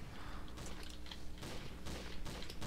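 Gunfire in Counter-Strike: Source, with rapid bursts of shots and clattering impacts in quick irregular volleys, dense and continuous.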